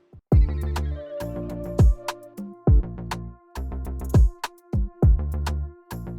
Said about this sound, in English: I added another sound, just a lead sound, and from Poly6, nostalgia pad